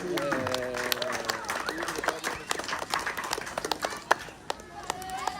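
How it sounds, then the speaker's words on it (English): An audience at an award ceremony gives a round of applause, a moderate field of overlapping claps with sharper individual hits and voices mixed in. "Let's give her a round of applause."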